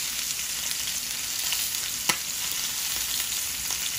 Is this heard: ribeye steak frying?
yes